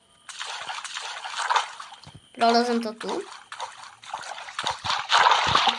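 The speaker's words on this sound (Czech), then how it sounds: "Spadli jsme někam do vody." Water sloshes and trickles after a fall into it in the horror video game Granny Chapter 2, uneven splashing bursts that continue throughout, mixed with a short tonal cue and a person talking.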